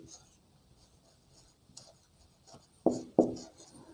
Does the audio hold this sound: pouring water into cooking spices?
no